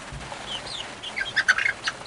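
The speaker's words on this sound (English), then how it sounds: "that's a pretty cool little bird right there" A chicken sitting on a person on a ranch gives a few soft, close clucks and chirpy notes, sparse at first and then clustering into quick bursts.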